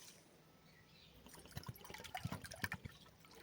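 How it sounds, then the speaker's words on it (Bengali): Water poured from a bowl into a pan of sugar to make syrup, a quiet trickling splash that builds toward the end, faint and close with no speech. "এই বাটির মাপ করে দু বাটি জল দিয়ে দেবো"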